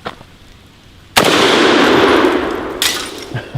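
A Galil .308 rifle is fired outdoors. A loud sharp report bursts out and rings into a long rolling echo, and a second crack comes near the end.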